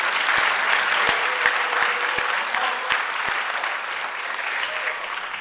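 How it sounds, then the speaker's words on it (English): An audience claps steadily at a school superintendent's welcome presentation, a dense, sustained round of applause filling the room from start to finish with no talk over it. "Give Doris a round of applause."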